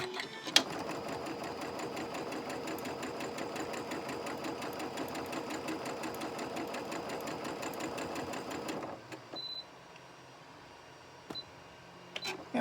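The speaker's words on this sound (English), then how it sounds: "And my machine is telling me that it wants me to put in a new bobbin" A sewing machine stitches batik fabric for a quilt block, running in a fast, steady mechanical whir for about nine seconds. It then stops, leaving near quiet broken by a few small clicks.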